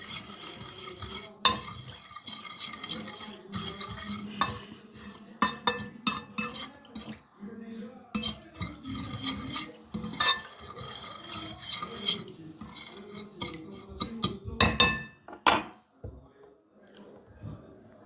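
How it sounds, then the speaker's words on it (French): A fork scrapes and clinks against a dish while mixing seasoned white rice, giving a busy run of close, rhythmic metallic scrapes and taps that lasts throughout with brief pauses. "avec une fourchette, on le mélange bien"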